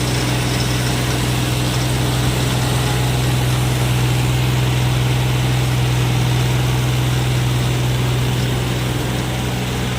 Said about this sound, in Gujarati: આ ટ્રેક્ટર થી હાલ હે